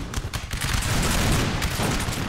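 Musket volleys crackle in a dense, continuous fusillade across a Napoleonic battlefield in Napoleon: Total War, many shots overlapping into a rolling roar with no voices.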